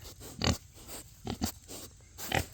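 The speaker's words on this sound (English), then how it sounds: "let's look at these pigs right quick." Farm pigs grunt in three short, separate bursts spaced about a second apart, close by and fairly soft, over a quiet outdoor background.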